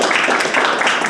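A short burst of dense clapping fills the room at a town council meeting and public hearing, steady and fairly loud, with no one speaking over it.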